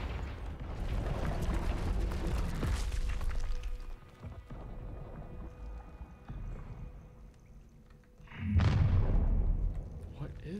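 Confringo explosive spell in Hogwarts Legacy, a heavy booming blast near the end after a stretch of rumbling combat noise, loud and close with a quick decaying tail.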